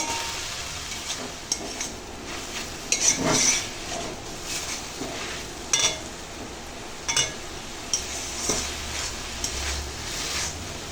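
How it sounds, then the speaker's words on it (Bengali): Tender salted greens are turned over and over in a hot pan, a constant soft sizzle overlaid with repeated clinks and scrapes of a spatula on metal, close and fairly loud. "কচি শাকে নুন পড়েছে শাক কমতে শুরু করেছে তো শাকটা এইভাবে নেড়ে নেড়ে রান্না করব"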